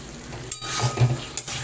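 Pieces of pre-fried eggplant dropped into a simmering vegetable curry in a pan, giving a steady close sizzle with brief louder crackling bursts as they land, no voices.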